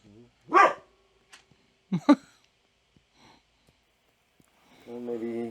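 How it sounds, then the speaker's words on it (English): A timid dog gives a few sharp, isolated barks and sniffs indoors, close but not loud, with a person's voice briefly heard near the end. "And that's the timid dog."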